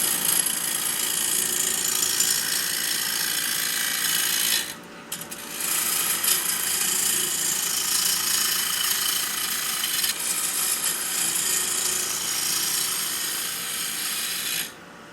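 A wood lathe roughly turns a wooden bowl, its steady broadband scraping and whirring continuing through most of the stretch, broken by two short pauses where the cutting drops away before resuming.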